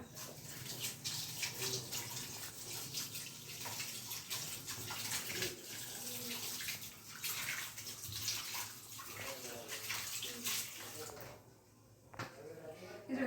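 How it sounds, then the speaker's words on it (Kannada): Raw fish for a tawa fish fry is washed under running water, a close steady splashing and sloshing with soft squishy handling, while a voice talks over it. "ಒನ್ ಟೈಮ್ ಇಷ್ಟು ಮೀನು ಎತ್ತಿದ್ದೀನಿ ಇದನ್ನ ಈಗ ತೊಳ್ಕೊಬಿಡೋಣ"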